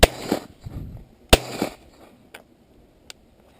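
Two loud, close shotgun blasts about a second and a half apart, each ringing briefly, followed by a couple of faint mechanical clicks in otherwise quiet open air.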